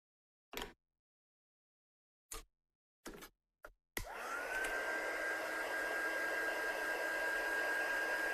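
Heat gun for card-making texture work switching on after a few scattered taps and clicks, then blowing with a steady loud hiss and whine that continues to the end.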